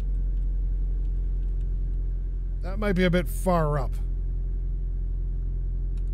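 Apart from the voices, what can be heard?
car engine running while being maneuvered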